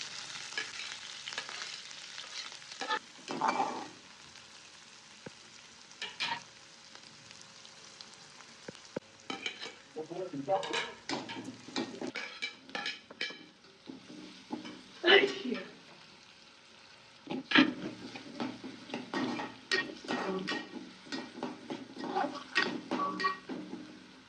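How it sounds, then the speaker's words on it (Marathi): Onion and green chili frying in a pan, a steady sizzle with intermittent stirring scrapes and clatters, moderately close, with occasional talk in between. "आता आपण कांदा मिरची टाकून घेऊया"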